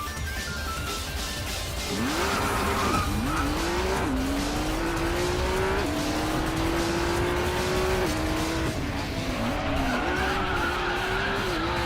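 Race cars on the Nurburgring in Racing Master roar close and loud, engines rising and dropping through gear changes over a steady drone, with tire noise throughout and no voices.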